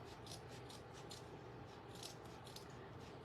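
Scissors cutting through a folded coco liner give faint, repeated crisp snips and rustles, quiet and close, with several cuts coming in quick succession.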